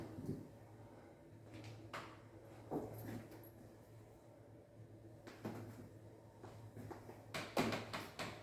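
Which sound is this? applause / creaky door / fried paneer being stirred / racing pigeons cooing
creaky door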